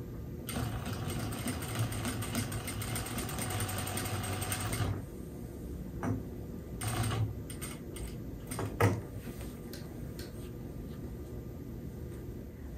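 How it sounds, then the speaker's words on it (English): A sewing machine running a long basting stitch to attach decorative cord trim to pillow fabric, a steady mechanical whirr for about five seconds, then stopping, followed by short intermittent bursts and handling noises. "This is basting, so we're going to turn our stitch length longer."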